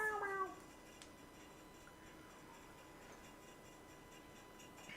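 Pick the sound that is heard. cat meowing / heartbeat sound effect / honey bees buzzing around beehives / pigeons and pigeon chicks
cat meowing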